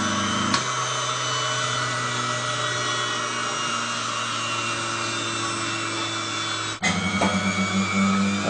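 An electric cream separator for smetana starts up and runs with a steady, smooth motor whine and broadband whir, holding even and close throughout before a brief change near the end.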